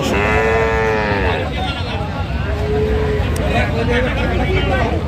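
Bull calves, Sahiwal breed, lowing repeatedly at a busy cattle market, several drawn-out moos over a constant crowd babble and nearby traffic noise.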